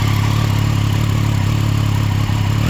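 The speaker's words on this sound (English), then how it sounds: "let's take a listen to the stock exhaust" A 2018 Triumph Street Triple RS 765 motorcycle idles close by with a deep, steady burble from its stock exhaust, loud and continuous with no voices.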